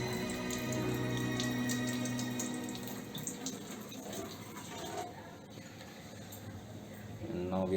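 Water from an alkaline ionizer pours into a larger test tube, a steady splashing trickle under a voice.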